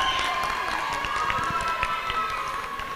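A studio audience applauds on a televised singing contest, producing a dense, steady wash of clapping that holds at constant loudness for the full stretch, with musical tones running underneath.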